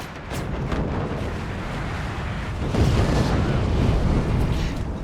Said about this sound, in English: Once that missile hits